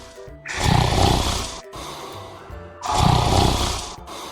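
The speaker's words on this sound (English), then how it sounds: "hear me over his insane snoring" Two loud, rasping snores from Jason Voorhees in a video game, each long and rough with a short pause between, close and exaggerated like a game sound effect.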